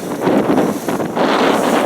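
Strong wind at sea, around 60 knots aboard a sailing boat, roaring and buffeting against the microphone, a steady loud rush with gusty swells.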